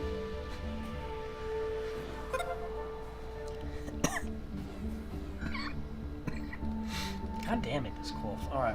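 A person coughs a few times during a casual gaming session, short harsh bursts mixed in with ongoing talk and background game sounds.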